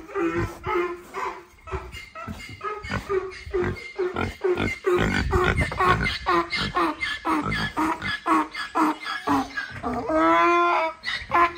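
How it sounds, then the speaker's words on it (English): Goats crowd close at feeding time, with loud, overlapping bleats and grunts in quick succession and rustling movement between calls. "All the crazy goats following me."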